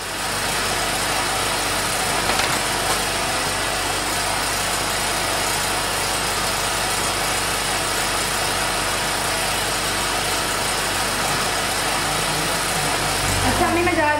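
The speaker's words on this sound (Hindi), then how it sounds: "ये मनूज जनरेटर चलाते हैं, इसके शोर से मुझे बहुत दर्द होता है सर में।" A generator runs steadily and loudly throughout as a constant broadband engine drone, with voices speaking over it.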